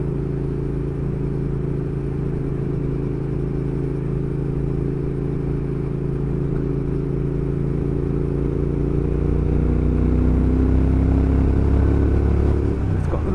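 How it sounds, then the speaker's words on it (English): A Triumph Thruxton R motorcycle fitted with new aftermarket exhausts runs close by, its steady, throaty twin-cylinder drone holding throughout and swelling slightly near the end as the revs rise. "Really pleased with those new exhausts though"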